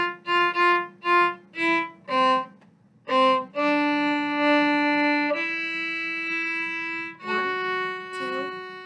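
A violin plays a short practice passage with an F natural from a Disneyland-themed orchestra piece: five detached bowed notes, a short pause, then longer sustained notes, clear and close with no talking.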